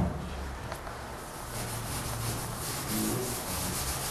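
A scraper rubs and scrubs at caked-on dirt in a shared kitchen, a soft, steady abrasive scraping heard close but fairly quiet throughout.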